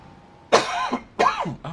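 Two sharp, close coughs from a throat tickle, spaced under a second apart, with a third cut short at the end, heard alone in a quiet room.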